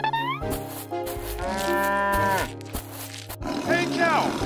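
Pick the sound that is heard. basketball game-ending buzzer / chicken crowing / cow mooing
cow mooing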